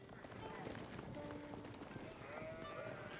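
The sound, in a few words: sheep in the video game Age of Empires IV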